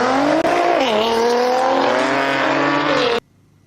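A six-cylinder car engine revving loud and close, a sustained harmonic roar whose pitch dips and then climbs steadily, cutting off abruptly near the end.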